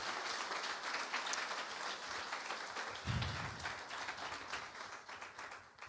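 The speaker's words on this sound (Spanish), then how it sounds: "Vamos a dar un aplauso a nuestro Señor Jesús." A congregation at Iglesia Sion in Barakaldo applauds during an evangelical church service, a dense, continuous patter of many hands that swells briefly and then gradually thins and fades toward the end.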